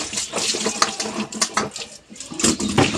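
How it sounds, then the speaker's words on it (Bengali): Potatoes being washed in a metal pot, with clattering knocks, scraping and splashing water in a home kitchen; busy, close and continuous for a few seconds with no talk. "এই আলুগুলো একটু ধুয়ে ফেলো তো"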